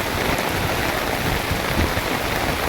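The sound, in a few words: heavy first monsoon rain in Nashik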